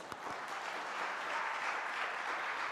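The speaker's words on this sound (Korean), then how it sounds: "박수 한번 돌려볼까요?" Church congregation applauding during a late-night Friday worship service, a sustained crowd of clapping hands that swells slightly midway, with a few louder individual claps near the start.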